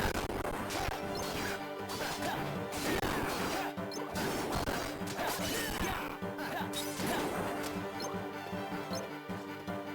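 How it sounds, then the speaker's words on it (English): Heartless enemies are smashed in Kingdom Hearts 358/2 Days. Dense, crashing hits and whacks land repeatedly over a busy, continuous game score at an even, fairly loud level. "I'm gonna go back to smashing Heartless since that's what I'm good at."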